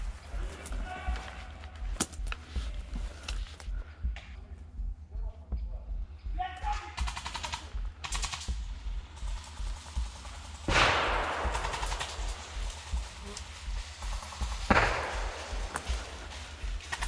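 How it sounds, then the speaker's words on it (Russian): Airsoft skirmish in a forest near a house, with sharp gunfire cracks and short bursts popping at a distance over steady outdoor background noise, a couple of louder close shots standing out. "И опять перестрелка между синими в лесу и синими у дома."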